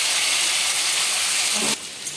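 Steamed squash and potato tipped into hot mustard-free tempering oil with dried red chilli, bay leaf and asafoetida produce a loud, steady steamy hiss that drops off abruptly near the end.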